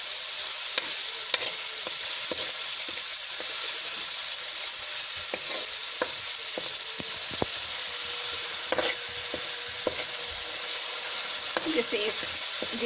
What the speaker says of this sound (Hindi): तो हम 1 से 2 मिनट तक के लिए भूनेंगे।